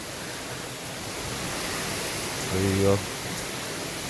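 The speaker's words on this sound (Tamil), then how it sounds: "செம மழை கைஸ்" Heavy rain pours steadily as a dense, even hiss close around, with a short spoken exclamation breaking in near the end.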